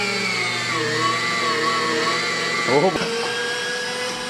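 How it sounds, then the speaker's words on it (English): Electric meat grinder working through sausage meat for kielbasa, a steady motor hum with a brief strained wobble near the end, while a person briefly exclaims. "I am going to be feeding these through one by one, and hopefully, yeah, just get a good grind on it"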